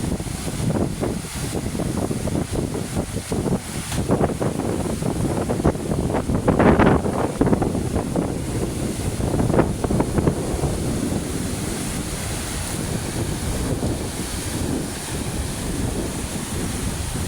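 Waves surge at sea under a strong, steady wind buffeting the microphone, with no rain, a continuous loud roar of surf and gusts throughout and no talking.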